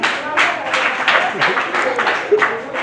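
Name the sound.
congregation clapping for a mother in church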